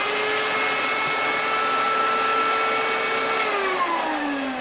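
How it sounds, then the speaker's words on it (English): A shop vac hose draws air out of a Mylar food-storage bag through a 2-inch hole, a loud steady motor whine and rushing suction that holds on, then sags in pitch near the end as the bag collapses. "I'm going to grab my shop vac hose."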